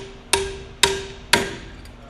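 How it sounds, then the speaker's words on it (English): A mallet strikes a flexible spanner wrench to tighten a 6000 PSI hydraulic accumulator: three evenly spaced, sharp metallic taps about half a second apart, each ringing briefly, close and clear. "attach the flexible spanner wrench. Hand tighten. And then mallet tighten."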